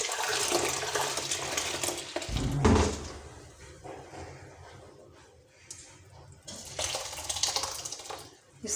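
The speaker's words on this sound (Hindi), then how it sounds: "फिर से उसके अंदर पानी डालना है, पानी डाल के फिर से ऐसे ऐसे करना है।" Fennel and carom seeds being washed in water in a vessel at home, with close, loud sloshing and pouring bursts that ease off midway and then return.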